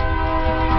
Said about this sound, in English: I'm right by the train tracks. Here comes the train.